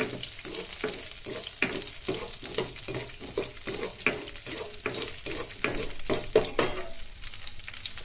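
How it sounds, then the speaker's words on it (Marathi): Garlic roasts in a pan with a dense, constant sizzle, close and even, broken by quick rhythmic stirring scrapes. "तो हांगसर न्हय लसूण मातशीशी भाजून घेवपाक जाय."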